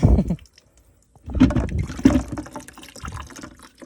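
Water gushing and splashing from a tap on a pig farm after a month without supply, coming in uneven close bursts separated by brief quiet gaps.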